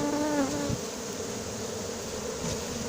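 Close, continuous droning of a honeybee swarm being collected into a cardboard box at Soignolles-en-Brie, a thick steady hum with a brief rising whine from one nearby bee at the start, no talking.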